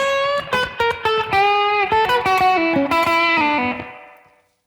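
Distorted electric guitar plays a blues lick over an 8-bar blues, with a quick run of picked notes, some sustained bends and a final note ringing out and fading, loud and alone.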